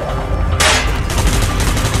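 Loud burst of gunfire in the video game Call of Duty: Black Ops, a sharp blast followed by rapid repeated shots over a steady low rumble, no voices.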